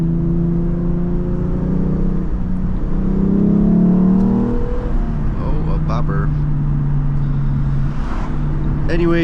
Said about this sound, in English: This thing screams when it gets cold, especially on a cold starts, revving the engine at high RPMs.